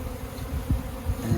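A honeybee swarm held in a laundry basket hums with a steady, close, low insect buzz that swells and dips slightly, carrying on without any voices.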